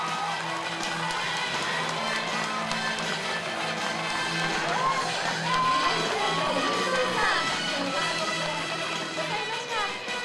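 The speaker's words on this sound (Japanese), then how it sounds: "どうぞ皆様大きな拍手でお出迎えください。" A crowd at a Japanese fan event welcomes Korean actors Lee Joon-gi and Yoon So-yi with loud, sustained clapping mixed with cheers and squeals, while music plays underneath.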